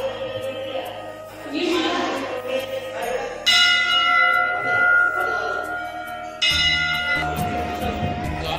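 A bell at a Hindu temple rings in several loud, near strikes, each leaving a long ringing tone that lingers and decays between hits.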